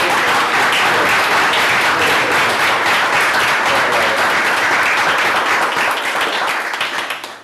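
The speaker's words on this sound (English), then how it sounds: "can we give a warm hand of applause?" A warm round of applause from the audience at a panel discussion on Kenya's economy: steady, dense clapping from many hands that holds at full strength throughout, then cuts off abruptly at the end.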